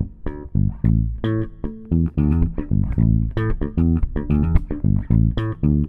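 Short, muted bass guitar notes palm-muted with the right hand, plucked in a quick, bouncy rhythm, each note cut off sharply with a deep, thumping tone.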